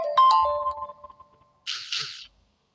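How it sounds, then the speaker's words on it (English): A notification chime rings out at close range: a bright, quick ding sequence that fades over about a second, followed by a short burst of noisy rustle after a pause. "I'm having several notifications here"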